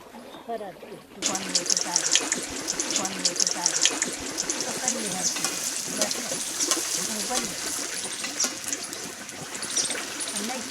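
Bhature deep-frying in hot oil for chole bhature, a close, continuous crackling sizzle that starts abruptly after a brief moment and carries on steadily, with someone talking over it.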